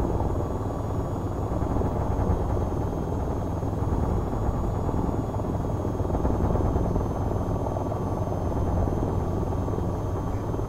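AH-94 attack helicopter flying in the VTOL VR flight simulator near Akutan: a steady, close rotor thrum and turbine whine hold at an even, loud level throughout without any talk.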